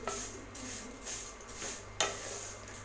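About 200 grams of vermicelli is roasted in oil in a kadai, giving a soft, steady sizzle with a few scraping stirs of a spoon, close up and fairly quiet.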